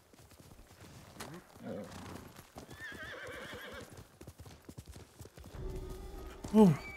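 A horse whinnies and hooves clip-clop over game music and effects in Ghost of Tsushima: Director's Cut, ending in a sharp, louder whinny; a voice talks briefly over it.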